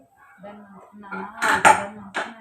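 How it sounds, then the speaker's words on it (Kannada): Metal pressure cooker lid being fitted and closed in a home kitchen, a couple of sharp clanks and scrapes of metal on metal, close by, heard alongside someone talking. "ನಾನು ಕುಕ್ಕರ್ ಮುಚ್ಚಿಡ್ತೀನಿ"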